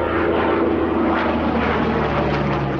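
A WW2 Spitfire's piston engine roars steadily in flight above the Cambridgeshire countryside, a loud, continuous drone that fills the whole moment from inside the aircraft.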